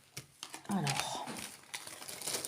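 Plastic packaging of a diamond painting kit crinkles and crackles up close in short bursts while someone talks in French over it.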